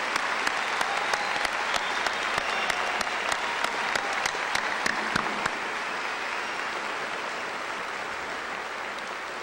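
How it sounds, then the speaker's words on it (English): A crowd at a 1999 high school graduation ceremony applauds the graduating class, dense sustained clapping with a few sharp individual claps standing out early, fading slightly toward the end. "I'd like to also ask for one more round of applause for this fine group of young people."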